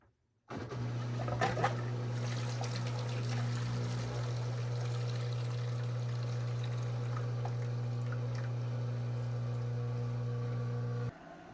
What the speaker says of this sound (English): Here's a clip of it draining with the setup I've got with the bin under it.